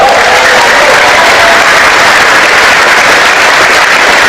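Loud, dense applause from a large crowd at an Indonesian PSI political party event, sustained and unbroken throughout.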